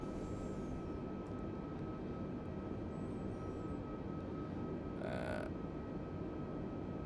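Steady, droning aircraft engine hum inside a Microsoft Flight Simulator cockpit, constant and even, with a brief higher-pitched electronic tone near the end.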